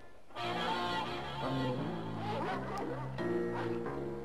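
Hounds bark in a short excited burst, several overlapping yaps and bow-wows close up amid a busy cartoon soundtrack.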